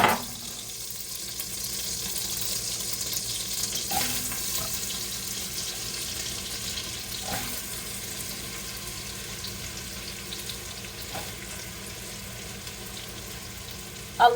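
Olive oil and butter heat in a pan on high, giving a steady, soft sizzle that carries on evenly throughout with a few faint clinks, close and moderately loud.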